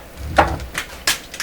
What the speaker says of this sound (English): That's a sound of a camera hitting the floor.